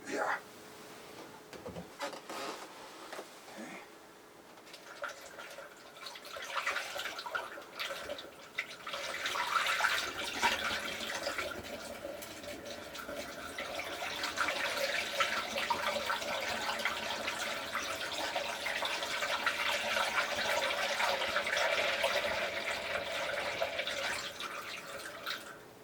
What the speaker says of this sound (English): This is going to need some more water added to it.